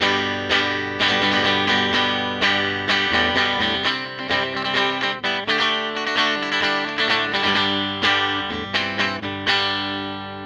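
Teye La Llama electric guitar on neck and bridge pickups with the volumes rolled low, played hard in loud, driven strummed chords and stabs with a chorused, distorted edge and no voices.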